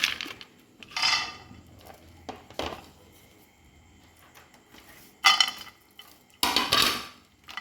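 Pistachios tipped into a dry pan and shuffled as they roast, giving bursts of bright rattling and clinking separated by quieter gaps with faint scraping.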